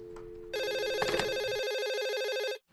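A telephone rings with a bright, buzzing electronic trill that starts abruptly, holds loud and steady for about two seconds, then cuts off.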